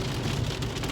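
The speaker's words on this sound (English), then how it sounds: "It's rainy, it's wet." Rain and sleet patter steadily on a car during a drive, a dense, even hiss with no voices.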